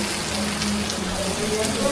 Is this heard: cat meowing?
no